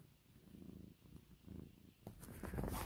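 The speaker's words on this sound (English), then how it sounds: "You can probably hear the cat." A house cat purrs softly and close by in a quiet indoor room, a low rhythmic rumble pulsing in steady breaths that grows a little fuller toward the end.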